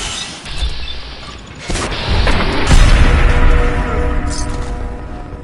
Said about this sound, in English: It appears someone is shooting at us.